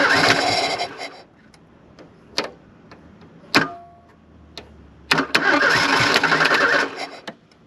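A 1983 Turbo Coupe, not run in 20 years and suspected of a fuel pump fault, cranks in short separate bursts with clicks and whirs between them. It never catches, and the sound is moderately close with no talking.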